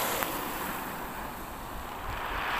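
Sea surf washing along the Mediterranean coast of Lebanon, a steady broadband roar with wind buffeting the microphone, continuous and fairly loud throughout, no voices.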